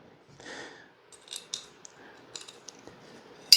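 A small silver metal piece dropped into a Shield Arms magazine, with soft metallic clicks, taps and scrapes scattered across a few seconds and a sharper click at the very end.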